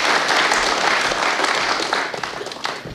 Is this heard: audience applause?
yes